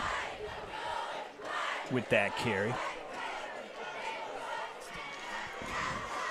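A high school football crowd cheers and roars steadily along the Zeeland West sideline during a Forest Hills Central vs Zeeland West game, with a voice talking over the din.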